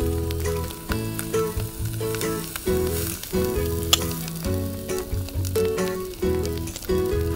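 An eel skewered on a stick grills over an open outdoor fire, brushed with sauce, giving off a steady crackling sizzle that runs throughout beneath a rhythmic backing of music, with no talk.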